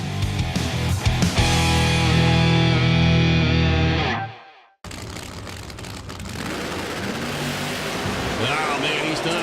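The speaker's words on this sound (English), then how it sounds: "big backfire" A nitrous drag racing car roars loudly at full throttle, then the engine cuts out abruptly and a sharp backfire bursts into rushing, noisy blasts as the run ends.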